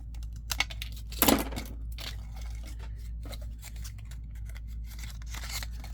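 Scissors trimming paper for a junk journal pocket, a few quick close snips and crisp cuts, one louder burst near the start among light rustling, with no talk.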